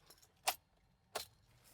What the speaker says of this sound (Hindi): ये चाबी को लगाएंगे भाई।